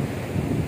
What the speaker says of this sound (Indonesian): ombaknya begitu besar.